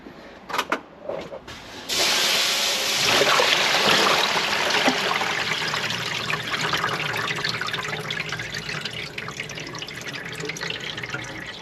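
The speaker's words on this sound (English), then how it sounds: "now we've got to flush through this with my bucket of water" A bucket of water is poured through a koi pond filter during a pre-winter clean. A few splashes lead into a loud, steady rush and gurgle of water draining through, which slowly eases toward the end.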